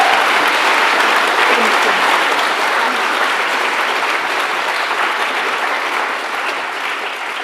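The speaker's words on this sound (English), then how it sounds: "Could everyone please give Amal and Phoebe a big round of applause?" A large audience at a climate-focused creative event applauds steadily and loudly, thick continuous clapping that stays even for several seconds before slowly fading toward the end.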